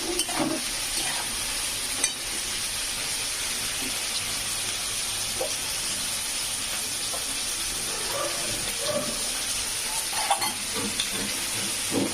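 Meat and spices fry hard in a pan, giving a steady, close, loud sizzle that runs the whole time with a few faint stirring scrapes and no talking.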